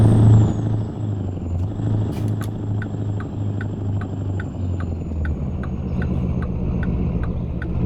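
Heavy truck engine rumbling in American Truck Simulator while hauling an extra long trailer, a deep steady low drone with a regular ticking pattern, continuous throughout.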